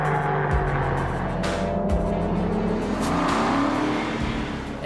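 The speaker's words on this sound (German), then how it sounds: "Mein Gott, wir haben hier einen 12-Zylinder-Saugermotor vorne." A naturally aspirated 6.0-litre 12-cylinder engine in a front-engined convertible sports car revs loudly and continuously, its pitch climbing and falling as it accelerates close by.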